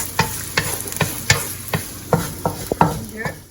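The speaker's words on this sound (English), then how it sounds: "So in some oil that we heated up, we'd like to add some onions. And then we'd like to mix it up." Onions stirred in hot oil in a pan, with a steady rhythm of about ten sharp scraping strokes roughly every third of a second over a constant sizzle, close up and without voices.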